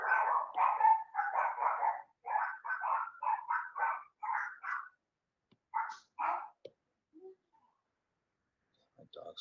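Pet dogs barking indoors in quick repeated bursts, a dense run of sharp barks that thins into scattered single yaps and then falls quiet.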